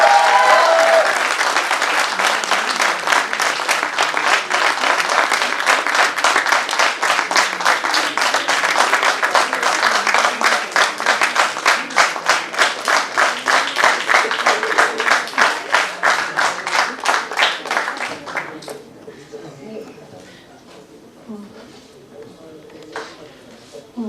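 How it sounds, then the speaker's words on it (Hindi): Audience at a Lucknow cultural society's musical theatre event applauds an award recipient with loud, sustained clapping for about eighteen seconds, growing rhythmic before fading into a quiet room with faint stray sounds. "मैं चाहती हूँ कि हम लोग जोरदार तालियों से उनका अभिनंदन करें"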